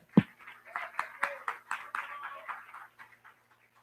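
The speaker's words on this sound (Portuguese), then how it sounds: "Aplaudamos." A congregation in a church applauds in a short burst of claps that starts with one sharp clap, keeps up an uneven patter, then thins out and stops.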